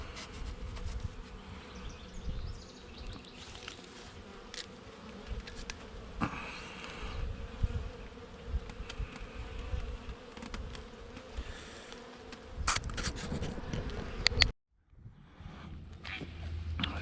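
Dense, steady buzzing of many honey bees at close range, continuous for most of the clip with brief rustles and a short drop near the end.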